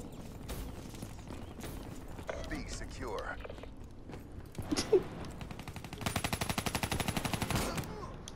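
Gunfire in Call of Duty: Black Ops III, with scattered shots and mechanical clatter giving way to a fast, loud run of repeated blasts near the end, over steady game noise and occasional voices.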